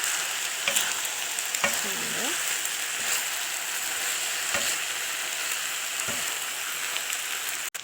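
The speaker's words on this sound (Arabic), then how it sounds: "وبعدين هنقلب كل الكلام ده كده، الرز مع الفراخ مع الخضار الفظيع ده." Rice, chicken and vegetables being stir-fried in a pan give a steady close sizzle, with a few scraping stirs and light clinks breaking through the constant hiss.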